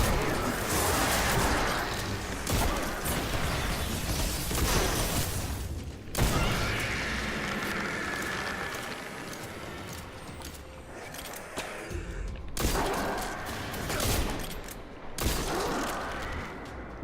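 Shotgun blasts and booming weapon fire from a Destiny 2 gunfight come in loud, dense bursts broken by brief gaps, with mechanical clanks and rattles between shots and no speech.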